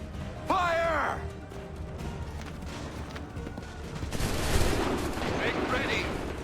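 Musket volley gunfire in the video game Assassin's Creed 3, loud cracking shots with a shouted command over battlefield noise, followed by a rolling wash of distant firing and rumble.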